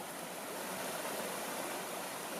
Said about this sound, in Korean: 물기를 낸 숲은 1년 내내 계곡물 소리가 그치지 않는다.